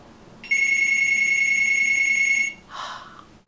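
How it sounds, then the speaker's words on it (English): An indoor telephone rings once with a long steady electronic tone lasting about two seconds, then a brief softer chirp follows, loud and close with no talking. "The phone? Really?"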